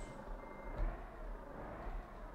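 Reversing beeps from a truck backing up on a rough road in the Truck Simulator Ultimate game, a faint, steady tone under a constant low engine rumble with no talk.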